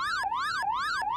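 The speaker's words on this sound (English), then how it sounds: "I wish you wouldn't blare that siren." A loud electronic siren wailing in fast, regular up-and-down sweeps, about three cycles, steady and close with no other sounds.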